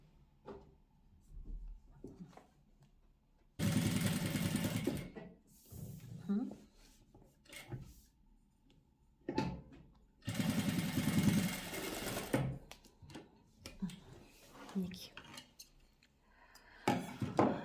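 Sewing machine stitching a quilted velour sofa cover, running in two loud bursts of several seconds each, with quieter handling clatter and someone talking in between.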